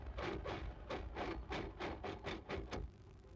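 Ferrari Formula One car of Gerhard Berger running unhealthily after damage in the 1995 season, its engine note breaking into a rapid series of rough, pulsing bursts before cutting down near the end.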